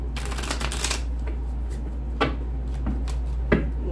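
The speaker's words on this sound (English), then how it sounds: "One last shuffle" A rapid riffle of shuffled tarot cards at the start, followed by a few soft slaps and taps of cards being handled up close.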